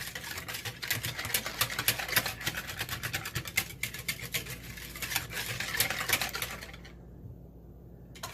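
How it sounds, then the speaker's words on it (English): Ice cream base for homemade mint chocolate chip ice cream being whisked in a bowl, a fast and steady clicking and scraping patter that runs on and then stops near the end. "we're just gonna continue to mix. So it's all fully incorporated"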